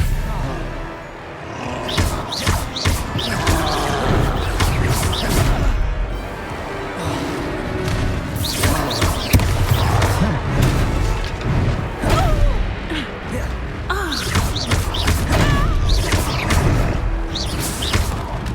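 Spell effects from the Hogwarts Legacy video game on Xbox Series X fill the scene with dense crashes, booms, thwacks and whooshes in a steady, loud combat barrage, with a voice calling out spell names over it.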